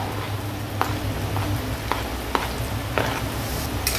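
Chopped onion and green chili frying in a pan for kanda poha, a soft steady sizzle with a few sharp spatula scrapes and taps against the pan, heard close with no talking.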